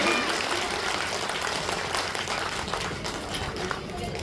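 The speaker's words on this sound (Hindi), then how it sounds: "वे सब मिलकर एक बार ताली बजा दीजिए" A crowd at a Bhagavat Katha religious gathering claps together in a steady, dense wash of applause that fills the whole stretch without a break.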